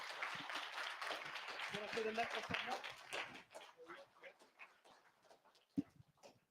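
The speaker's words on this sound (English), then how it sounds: "Round of applause." Audience applause at a teaching and talent event, a dense burst of clapping that thins out into scattered claps and fades toward the end.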